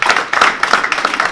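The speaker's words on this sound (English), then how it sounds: "give them a round of applause" Audience at an economic forum gives a short burst of applause, sharp close claps in uneven clusters, loud and brief, with no talking over it.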